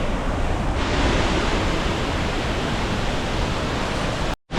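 The Twin Waterfall at Gitgit in North Bali roars as a loud, steady wash of falling water close by, unbroken until a brief dropout near the end.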